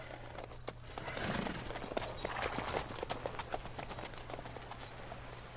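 Horse hooves clip-clop in a steady running rhythm in The Witcher 3: Blood and Wine, close and moderately loud over a constant low game hum, with no talk.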